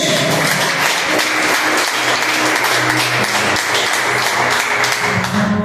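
A Baptist church congregation applauds during a deliverance service, loud continuous clapping close by with faint voices and some low hum underneath.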